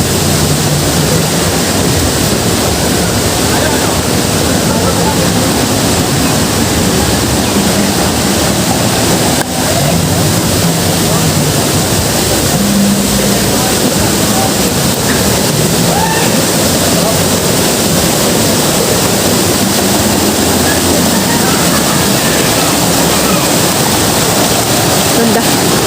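Loud, steady rushing of a river flowing through a cave, a dense continuous roar of water filling the whole clip with no pauses, while voices talk faintly underneath.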